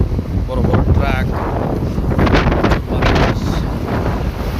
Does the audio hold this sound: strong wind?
yes